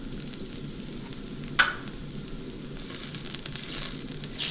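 Extra virgin olive oil and unsalted whole butter sizzle together in a pan, a steady close hiss that sharpens with a brief bright crackle partway through and grows busier and louder toward the end, with no talking.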